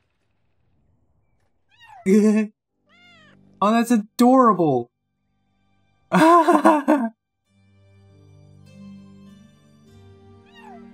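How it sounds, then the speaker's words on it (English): In the video game Children of Morta, a cat gives several close, loud meows in separate bursts, some of them drawn out and wavering, while a person speaks briefly and soft game music plays underneath. "She's knitting and the cat is playing with the yarn."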